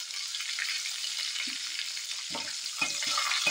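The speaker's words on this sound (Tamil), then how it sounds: "இப்போ இந்த நறுக்கின வெங்காயம் பிரியாணி எல்லாம் போட்டு இது போட்டு நல்லா வறுத்துக்கலாம்." Chopped onions with a little salt fry in a pan for a potato salna, a steady close sizzle with several scraping stirs of a spoon near the end.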